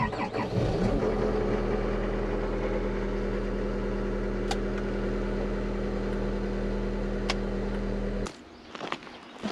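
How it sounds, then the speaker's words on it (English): A skid steer engine cranks and catches, then settles into a loud, steady low rumbling idle heard up close for several seconds before it cuts off abruptly. "So I got the skid steer here. I'll turn it on really quick"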